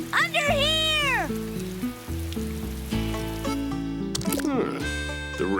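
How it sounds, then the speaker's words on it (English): Heavy cartoon cloudburst rain in an animated series: a steady, dense hiss of downpour running beneath a loud orchestral score, with a voice calling out over it. "Oh, it's a cloudburst! Run for cover!"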